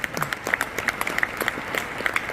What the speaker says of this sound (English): Let's have a big round of applause for truckers.